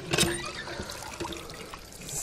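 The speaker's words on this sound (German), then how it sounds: "Und hier kommt jetzt mal Wasser hinein." Water poured into a chicken drinker in a coop, a close splashing trickle with an initial gush, then small irregular dribbles and drips over two seconds.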